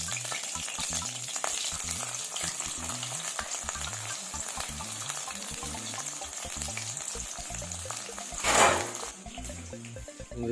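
Garlic and ginger fry in coconut oil for a Kerala chicken stew, a continuous crackling sizzle with rhythmic stirring scrapes, heard close. A brief louder splash or hiss burst comes near the end.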